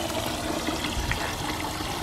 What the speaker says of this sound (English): You see it's creating water movement and bubbles and everything.